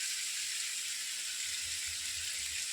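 Chicken pieces sizzling in a pan as they are stirred and cooked down for biryani, a steady hiss of frying with faint soft scraping knocks underneath.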